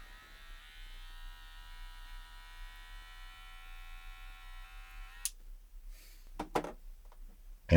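Stylecraft Rattlesnake cordless hair clipper running with a weak-sounding motor, a faint steady electric hum for about five seconds that cuts off, followed by a few quiet clicks and handling knocks.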